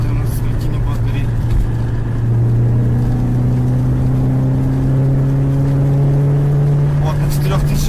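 A stock, unmodified 16-valve car engine revs up to around 3000 rpm and holds there, a steady loud drone whose pitch climbs slightly, with a voice talking over it.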